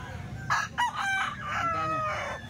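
An eight-month-old rooster offered for sale crows close by, a loud drawn-out call with a broken start, over a low background murmur.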